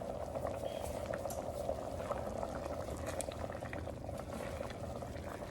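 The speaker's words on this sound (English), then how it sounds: "as you can see, it has came to a boil" A pot of liquid on a stovetop boils at a full rolling bubble, a steady dense gurgle and churn heard up close and continuously throughout.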